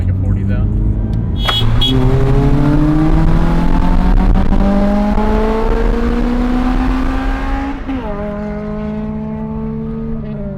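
A widebody Scion FR-S races a Toyota Celica GTS from a rolling start, and the engine roars loud and close as it climbs steadily through the revs with two clear gear shifts.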